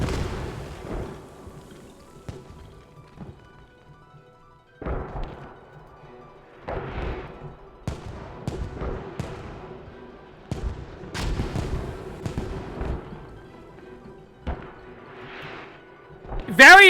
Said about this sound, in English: Artillery fire from the insurgents have been launched on point.